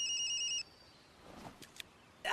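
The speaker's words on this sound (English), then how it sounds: "Terrell's phone beeped." A phone gives a short repeated electronic beep, like a text alert, for about half a second, followed by faint rustling and small clicks in a quiet room.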